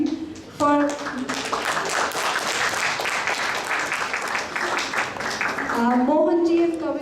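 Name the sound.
audience applause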